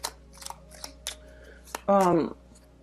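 Tarot cards are handled and drawn, with a few soft separate flicks and slides and then one louder, longer riffle-like burst close by. A voice is heard faintly in the background.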